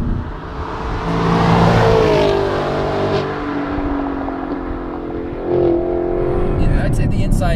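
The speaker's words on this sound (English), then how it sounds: "The sport exhaust, I also recommend, because this car sounds the business." A 2016 Chevrolet Camaro SS convertible with sport exhaust roars as its engine revs and pulls through gears, loud and near, with the pitch rising and falling before a short lull and another surge.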